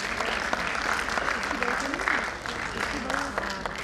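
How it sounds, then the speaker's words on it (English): Audience applause at a concert or stage show, steady clapping throughout with a voice and tonal sounds mixed in over the claps. "give her a big round of applause"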